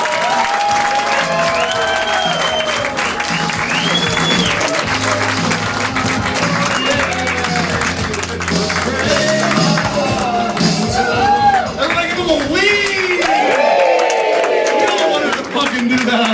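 A live audience applauds after a stand-up comedy set: dense, continuous clapping with cheers and whoops, loud and sustained throughout, with voices mixed into the crowd noise.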